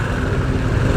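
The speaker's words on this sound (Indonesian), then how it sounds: "Widih, motor gede" A big motorcycle passes on a city road, its broad engine roar steady and close for about a second, with no voices.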